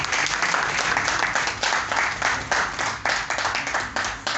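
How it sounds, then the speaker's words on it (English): An audience at a product unveiling event in Lagos applauds to welcome Emeka Mba, with dense, sustained clapping from many hands, loud and close, filling the whole stretch without a break. "A round of applause."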